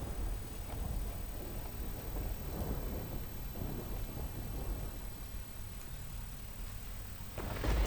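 Heavy unseasonal downpour over a village in Jafrabad taluka, Amreli, a dense continuous roar of rain with low rumbling and wind buffeting throughout, swelling slightly at the end, no speech.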